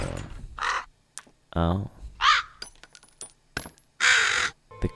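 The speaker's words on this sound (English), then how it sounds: "The crow is taking the gems?" A crow caws several times in the Nancy Drew game The Haunting of Castle Malloy, harsh calls spaced out between soft clinks and brief game sounds, with a short spoken exclamation.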